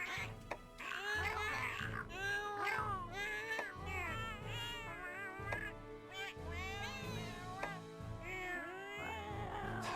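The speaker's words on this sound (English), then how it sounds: "This one just sounds the most like a person making cat noises." Cat meow voice sound effects from the Monster Hunter video game, a run of drawn-out, voice-like meows and caterwauls repeating one after another over a steady low hum of game audio.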